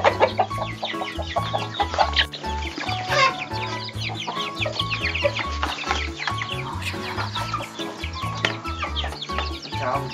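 A flock of chickens clucks continuously while a man feeds them beside a newly built coop, dense overlapping clucks and squawks close by, with some low thumps underneath and no talking.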